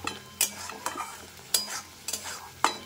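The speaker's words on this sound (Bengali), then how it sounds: "দিয়ে ভালো করে নাড়াচাড়া করে একটু মশলাটাকে কষিয়ে নেব" Spice paste being stirred and fried in a pan while cooking vegetable curry, with a low steady sizzle broken by several sharp scraping strokes of a spoon against the pan at irregular intervals, close and alone.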